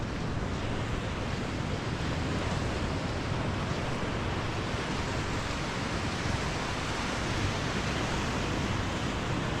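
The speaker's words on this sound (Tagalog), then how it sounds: "Sa ganyang baybayin ng dagat." Waves washing onto a sandy sea shore where sea turtles come to nest, a steady, unbroken roar of surf and wind that stays loud and even throughout, with no voices.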